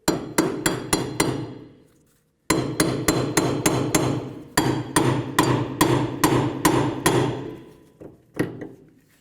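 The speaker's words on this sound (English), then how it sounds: "Take your hammer from the back side here." Loud metal hammer blows on the rear axle of a 1998-2002 Honda Accord ring out in quick, even bursts: four strikes, a pause, then a longer run of blows, ending with a few scattered hits.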